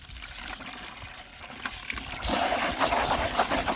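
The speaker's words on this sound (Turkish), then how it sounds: "Şöyle ben suya 3 fırt sıkayım bulaşık deterjanımızdan." Water sloshing and splashing as dish detergent is stirred into it to make suds, getting louder and more vigorous toward the end, with no voices.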